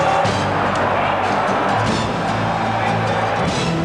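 A 2002 Formula One car brakes late into a corner before colliding with its teammate. Engine and track noise form a loud, dense, continuous roar with no clear break.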